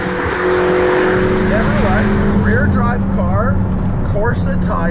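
A 2020 McLaren GT, a rear-drive car on Corsa tires, launches hard from a standstill, its engine note climbing steeply through rising revs and shifts, loud and close, while someone talks over it.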